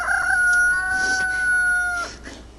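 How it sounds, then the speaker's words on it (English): A rooster crows loudly and close by in one long, drawn-out call with a wavering pitch, ending abruptly, with a faint second call from another bird in the background. "Shut up, rooster."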